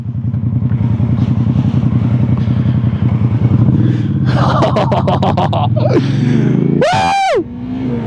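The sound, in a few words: motorcycle engine revving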